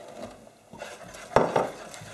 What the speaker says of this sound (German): nehmen wir sie vom Herd und geben das Mehl in einem Ruck in die Masse und rühren kräftig um.